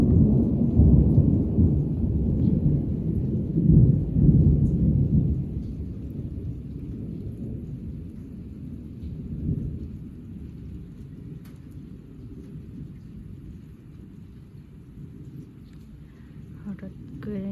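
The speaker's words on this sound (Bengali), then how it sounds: "হঠাৎ করে না বৃষ্টি পড়া শুরু হয়েছে, এত বড় বড় শিল পড়তেছে" A night thunderstorm with heavy rain and large hailstones, heard as a dense, steady wash of downpour with low rumbling thunder swelling in the first few seconds and again near ten seconds before easing off.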